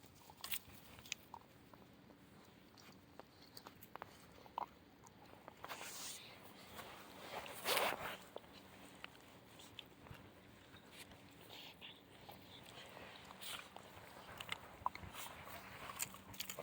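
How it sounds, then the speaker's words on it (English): Central Asian shepherd (Alabai) puppies gnaw on bones, giving faint, intermittent clicks, bites and crunches in a quiet space, with one louder burst partway through. "It's a strange pose for chewing a bone."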